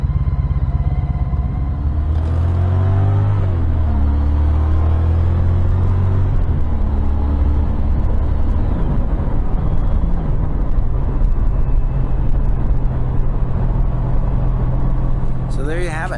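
A Honda CTX 1300 Deluxe motorcycle's engine rumbles steadily while riding, a continuous low drone that rises and falls with throttle changes, with wind rush throughout.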